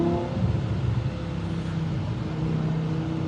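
BMW M5 with its V10 engine revving hard while driving, a loud, steady exhaust drone with harmonic bands that rise and fall slightly, heard close and continuous with no talk.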